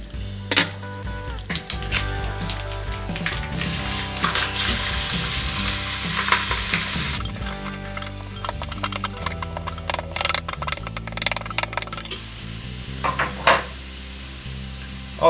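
Organic 85% lean ground beef sautéing in an Instant Pot, a dense, loud sizzle and frying crackle with a mechanical rattle and scattered stirring clicks, with no talking.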